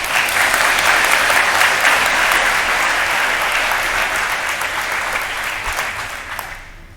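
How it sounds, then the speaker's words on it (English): An audience at a Marine Corps JROTC birthday celebration gives a guest of honor a full round of applause, loud dense clapping that slowly tapers and dies away near the end. "please join me in a round of applause for our guest of honor"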